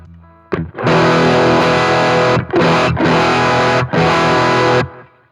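An electric guitar through a NUX Mighty 20 MKII amp on a Plexi-style preset, mid-pushed and gainy, strums loud sustained distorted chords in several long hits with short breaks, played alone.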